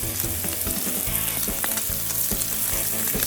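Dry aged ribeye cheesesteak meat sizzles on a griddle set below full power, giving a constant close hissing fry with scattered crackles and a few spatula taps.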